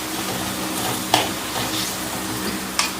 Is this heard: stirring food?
yes